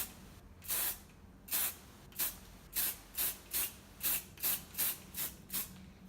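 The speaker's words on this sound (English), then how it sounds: "To make this look sleek and shiny, I will hairspray it" Hairspray is sprayed onto hair in about a dozen short, close hissing bursts with an even rhythm, and the pauses between them quicken toward the end.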